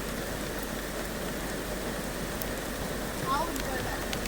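Heavy rain pours down during a storm over a wheatbelt farm, a dense, steady, close roar of drops that holds level throughout with no pauses.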